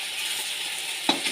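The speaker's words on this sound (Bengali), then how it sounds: "একদিকে মাছ ভাজা হচ্ছে।" Fish fries in a pan, giving off a steady, close hiss of sizzling oil with a small clink partway through.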